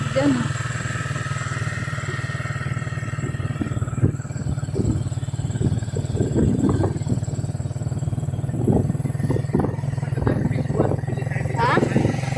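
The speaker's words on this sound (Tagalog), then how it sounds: "Ay, may motor sa likod." A motorcycle engine idles and rumbles steadily nearby from behind on a bumpy road, a continuous low drone with rattles and clatter, while people talk over it throughout.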